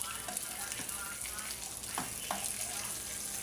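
Beef pieces fry hard in a pan, browning to a near-burnt crisp, with a constant bright sizzle and a few scraping stirs. A voice talks faintly beneath the cooking noise.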